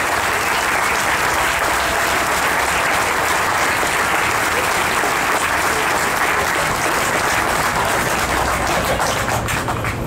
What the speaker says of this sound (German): ein kräftiger Applaus für Ihre lokalen Kandidaten hier in Köln